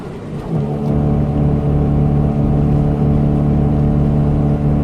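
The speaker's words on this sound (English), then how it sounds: "I over-revved it there, lost a bit of momentum" A Mazda B2600 4x4 pickup with a new exhaust revs hard and holds a loud, droning engine note with a steady low rumble and whine, close and continuous after a brief rise at the start.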